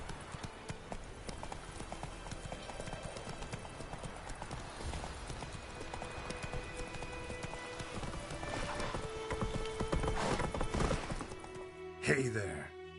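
Hoofbeats of Geralt's horse Roach galloping through The Witcher 3, a steady rapid clip-clop running throughout, with brief whinnying and a louder scuffle near the end.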